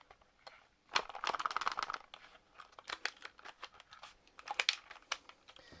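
Sticky house tape is torn and pulled away in bursts of crackly ripping and crinkling, loud and close, with short pauses between the pulls.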